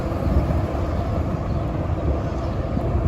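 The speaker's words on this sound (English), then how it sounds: "So we are right here at the Museum of Natural History at the 81st Street subway station." Steady low rumble of an underground subway station at 81st Street–Museum of Natural History in New York, served by B and C trains, a continuous loud broadband roar with no distinct events and no talking.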